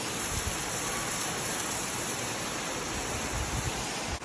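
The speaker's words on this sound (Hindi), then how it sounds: "बहुत तेज़ बारिश हो रही है भाई और कम से कम 2 घंटे से हो रही है" Heavy rain pours steadily for a long stretch in Guwahati, a dense, even hiss of drops on surfaces with no pauses, filling the space with no voices.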